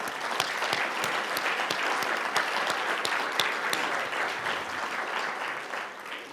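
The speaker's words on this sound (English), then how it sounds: "So a round of applause for them." An audience at a regional government address held at a zoo applauds the metro councilors, with steady, dense clapping close by that carries on without a break for several seconds.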